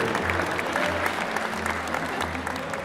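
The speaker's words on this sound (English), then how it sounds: "big round of applause for the bride and groom" Wedding guests applauding the bride and groom at a reception, dense continuous clapping close by with pulsing low music beneath it.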